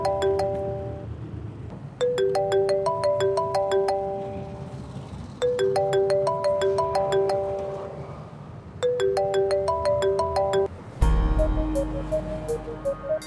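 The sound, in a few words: mobile phone ringtone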